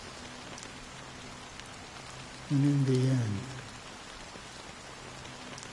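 Steady rain falls as a soft continuous hiss through a Honkai: Star Rail cutscene, with a brief spoken line in the middle.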